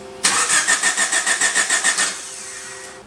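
A Honda Civic Del Sol with no spark cranks over without firing: about a dozen rapid, even starter pulses for two seconds, then the cranking stops and only faint hum remains.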